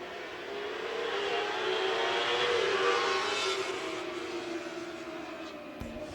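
Stock cars race on the Twin State Speedway short track in Claremont, New Hampshire, a roaring pack of engines swelling as they sweep past and fading away, loud and continuous with a brief knock near the end.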